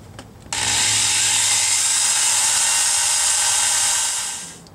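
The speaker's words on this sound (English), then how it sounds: "now I'm just going to drill a couple little pilot holes" Power drill boring small pilot holes for screws mounting a vehicle handgun retention holster, a loud steady high whine starting after a brief pause and running evenly for about four seconds before winding down.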